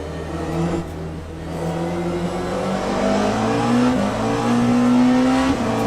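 A race car engine in Le Mans Ultimate revs and climbs through the gears, a loud, close, rising whine with brief dips at shifts.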